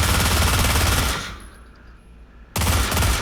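Bursts of rapid close gunfire at targets in the VR shooter Pavlov VR: a loud sustained volley, a brief lull of fading echo, then another sharp burst.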